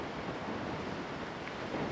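A steady, even wash of wind noise roars softly throughout, broadband and unbroken, with no voices.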